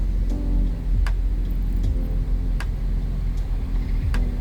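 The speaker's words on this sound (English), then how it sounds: "hold down the lock and signal button for 3 seconds to activate remote start" A car idling after being started with a remote start kit, a steady low engine rumble held close and even throughout, with a few faint clicks over it.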